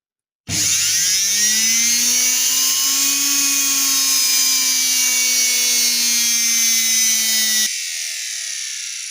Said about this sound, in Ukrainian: Як бачите, двигун працює, все справне, все працює, функціонує.